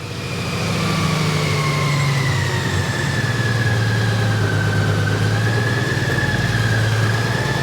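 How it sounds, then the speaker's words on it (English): A Honda Goldwing motorcycle with a DCT transmission starts and then runs steadily, a loud, even engine drone with a whining tone that falls slightly as it settles into idle. "I'm gonna just pull the switch. The bike is cranking up."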